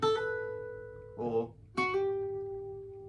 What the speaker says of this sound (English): second bit of ornamentation I wanted to talk about is a hammer-on